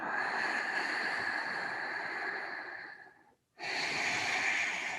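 A slow, deep breath is drawn in during a yoga session, heard close and steady. It breaks for a brief pause, then a second long breath follows, with no talking over it.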